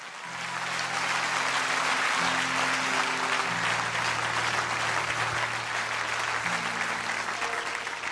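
A church congregation applauds the Lord in steady, dense clapping that fills the space throughout, with sustained organ or keyboard chords underneath and no speech.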